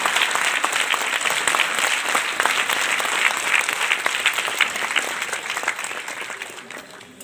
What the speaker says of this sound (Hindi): जोरदार तालियों से सम्मानित मंच का अभिनंदन